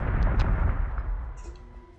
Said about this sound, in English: That was enemy torpedoes, right?